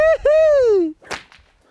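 A whip cracks once while a horse is being broken in: a loud, near swishing crack that sweeps downward in pitch, followed by a sharp, brief clatter.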